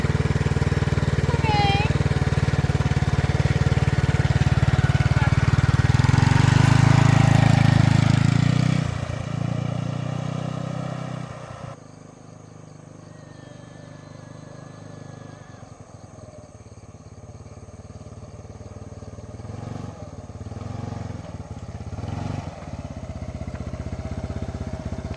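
Scooter engine idles and putters steadily during a beginner's first riding lesson on a road in Vietnam, loud and close at first, then fading to a quieter distant drone with occasional bumps.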